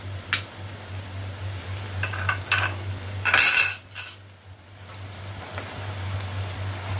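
Fish heads being stirred into nearly cooked rice in a pot, with scraping and clinking of a metal spoon against the vessel, a louder burst of stirring midway, and a faint low hum underneath.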